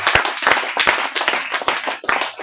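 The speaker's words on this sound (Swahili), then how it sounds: "Pigie Yesu makofi mengi sana." A church congregation claps hands loudly and close by at the end of a ten-day seminar, a fast, rhythmic burst of many hands with a few stronger accented claps.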